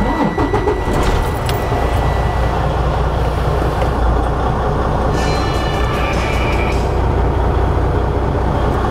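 A truck engine, started from neutral with the clutch pressed during a pre-trip inspection, runs loud and steady in a continuous rumbling idle, close by, with no talking.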